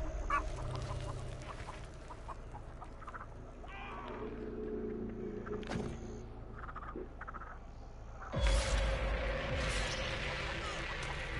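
A chicken clucking and squawking in The Texas Chainsaw Massacre video game, scattered cackles with a sudden loud flapping burst near the end, heard alongside background game ambience.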